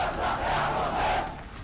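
A large crowd in Yemen chants slogans against America and Britain, a loud, continuous massed roar of voices that fills the space throughout.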